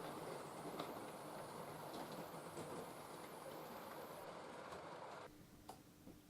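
A kit-built model railway train runs steadily along the track with a continuous rumbling clatter, then the noise drops slightly near the end.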